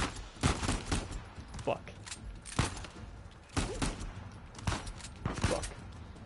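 Rapid bursts of gunfire from the video game Uncharted 4, loud repeated volleys every second or so, with a man swearing once between shots.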